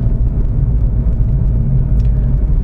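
Steady engine rumble from a Hyundai Veloster Custom Fit Extreme Driving Edition while driving, a continuous low drone close to the cabin with no talk over it.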